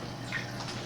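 Water squirted from a squeeze bottle rinses soil off the inner wall of a glass cylinder during a particle size analysis, a steady soft wash of trickling liquid throughout, fairly quiet with no talking.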